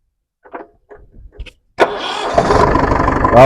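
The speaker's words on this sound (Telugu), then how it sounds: "ఇంజన్ అయితే చాలా స్మూత్గా స్టార్ట్ అయింది." A Mahindra jeep with a 2.5 DI diesel engine is heard up close. A few faint clicks and knocks come first, then the starter catches and the engine fires up loudly and settles into a steady, rumbling idle.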